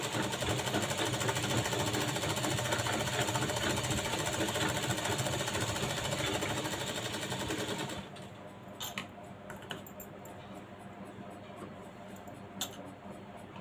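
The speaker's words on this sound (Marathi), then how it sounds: "अस्तरच्या बाजूला मार्जन करायचं आणि दाबटीप मारून घ्यायचं" A sewing machine stitches the lining of a blouse with a loud, fast, continuous mechanical whir, stopping about two thirds through, after which a few light clicks and handling sounds follow.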